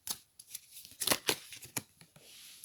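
Tarot cards shuffled and drawn from a deck, a close series of dry papery swishes and flicks coming in irregular bursts, with no talking.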